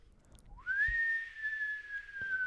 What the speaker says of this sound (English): worst whistle I've ever heard